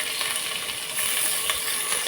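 Onion and two green chillies frying in a pan for matar pulao, a loud, steady, close sizzle with crackling pops and no talking.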